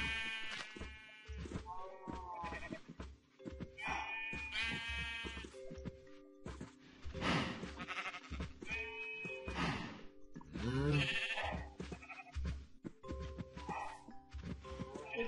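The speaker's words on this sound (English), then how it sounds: "Sheep." Sheep bleat repeatedly in wavering, nasal calls in Minecraft, several overlapping over steady synthetic background tones and occasional thuds, like a game soundtrack.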